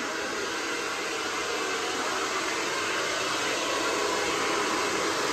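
A hair dryer runs continuously at home after a bath, a steady, loud, breathy whoosh of blowing air with no pauses and no voices over it.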